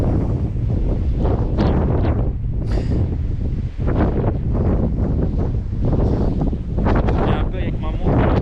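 Strong gusting wind on a mountain hike in the Pyrénées-Orientales, loud roaring buffeting across the microphone throughout, with brief talk beneath it.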